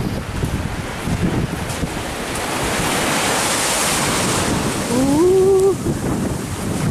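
Ocean surf and strong gusting wind at the shore make a loud, steady roar with heavy wind buffeting on the microphone, and a brief exclaimed voice is heard near the end.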